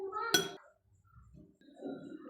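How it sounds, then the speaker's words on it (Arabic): A spoon mixes ground ginger, turmeric, curry powder and cardamom in a bowl, giving one sharp clink against the bowl, then soft low scraping, with a faint voice toward the end. "هلا بخلط البهارات كلها مع بعضها"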